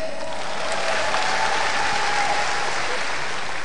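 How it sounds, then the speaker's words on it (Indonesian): An audience at a stand-up comedy festival breaks into loud, dense applause, a continuous wash of clapping heard close throughout. "Tepuk tangan untuk Stand Up Fest hari ini."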